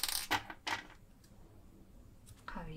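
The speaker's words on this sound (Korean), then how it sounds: "가위로 잘라줍니다" Scissors snip through knitting yarn while a knitted baguette bag strap is finished, giving two quick, crisp, close cuts followed by near quiet and a faint soft rustle.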